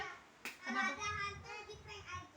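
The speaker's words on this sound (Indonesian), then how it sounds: "Yes, tepuk satu." Children at a Ramadan welcoming gathering give one sharp group clap, heard once near the start, followed by a voice talking.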